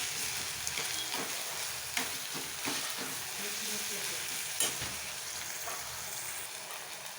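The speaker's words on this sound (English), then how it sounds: "in our tomatoes too at this stage so they can all fry really well" Mutton keema frying with tomatoes in a pan makes a steady, soft sizzle throughout, with occasional light clicks of a stirring utensil against the pan.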